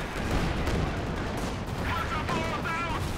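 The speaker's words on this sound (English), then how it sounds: "time on target artillery under the smoke" Time-on-target artillery barrage in Company of Heroes 2, a dense continuous rumble of blasts and gunfire that holds steady throughout, with a voice speaking over it.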